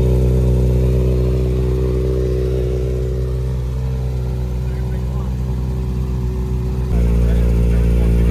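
Kawasaki ZX6R sport bike engine idling while warming up before a dyno run, a loud, close, steady mechanical drone that briefly dips in pitch and then steps back up near the end.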